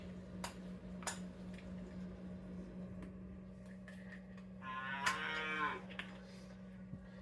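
Cows moo loudly over a steady low hum, with a long drawn-out bellow standing out near the end and a few clicks scattered throughout.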